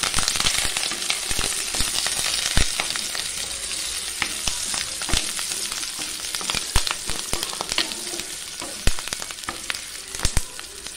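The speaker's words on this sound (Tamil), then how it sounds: "இப்போ நம்ம இதில் ஒரு ரெண்டு நிமிஷம் நல்லா வதக்கி விட்டுக்கலாங்க" Shallots and curry leaves sizzle and fry steadily in a pan of oil for chutney, with sharp crackles and pops over a constant hiss.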